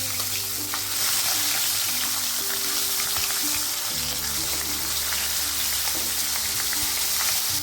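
Hilsa fish heads rubbed with salt and turmeric frying in mustard oil in a wok after being flipped, a loud, steady close sizzle with light stirring and a low hum beneath.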